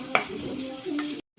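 Onions and curry leaves frying in a pan while being stirred, a short close sizzle with a sharp utensil clink near the start and a low hum, cutting off abruptly.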